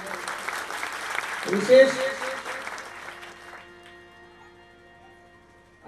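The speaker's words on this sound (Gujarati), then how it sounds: "જબરજસ્ત તાળીઓથી એકવાર સન્માન થઈ જાય" A gathering at a Gujarati devotional bhajan event bursts into applause to honour guests. The clapping swells and then fades out, and a voice speaks briefly partway through.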